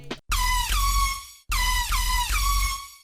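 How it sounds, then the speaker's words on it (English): Detuned saw-wave synth bass, two unison saws with no post processing, plays two loud sustained bursts with falling pitch sweeps and rich buzzy harmonics, split by a short gap. "and without any post it sounds like this."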